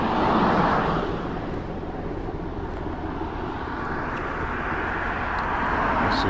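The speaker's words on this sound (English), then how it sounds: "helicopter up there." A helicopter flies overhead at night, producing a broad, steady engine rumble that stays loud throughout and swells slightly at the start and end, with no talking.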